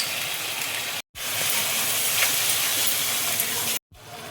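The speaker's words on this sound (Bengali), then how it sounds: "এবার আমি দইটা দিয়ে দিচ্ছি।" Whisked sour yogurt poured into spices frying in a pan for a cabbage kofta curry, producing a loud, close, steady sizzle and hiss. The sound is cut off abruptly twice by brief silent gaps.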